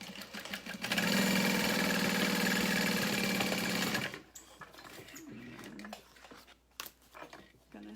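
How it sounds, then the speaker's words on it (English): A sewing machine stitches along the top edge of a small fabric crossbody bag in a fast, even, mechanical whir for about three seconds. It then stops, and quieter handling noises follow. "I'm going to sew along the top edge using about a 3/8 to 1/2 inch seam allowance"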